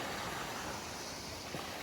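Surf rolls in along a beach during an outdoor pre-wedding photo shoot, a steady broadband wash of waves with wind noise buffeting the microphone, no clear talking.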